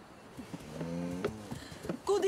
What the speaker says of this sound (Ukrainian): От вреднющі корови